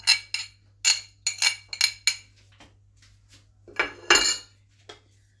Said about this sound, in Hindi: चम्मच से हिलाएंगे।